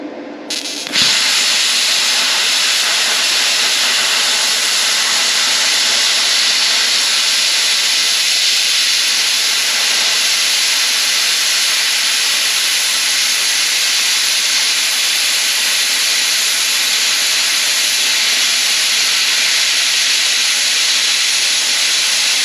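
A Bestarc BTC500 plasma cutter slicing half-inch metal at 50 amps and 60 PSI: a loud, steady, close roaring hiss that starts abruptly after a brief moment and holds unbroken for about twenty seconds, with no voices.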